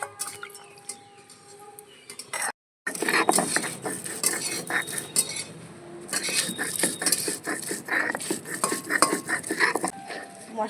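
Green chili, cumin, garlic and ginger being ground into a spice paste for banana flower curry, a steady run of close, repeated scraping and knocking strokes after a brief gap, with no talking.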